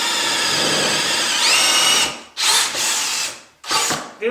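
A DeWalt cordless drill bores into wood with a spade bit. It starts as a loud, steady whine for about two seconds, then cuts off and restarts in short, close bursts.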